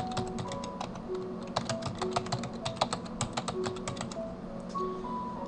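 Steady rapid typing on a computer keyboard, keys clicking in quick irregular bursts at close range with no voices.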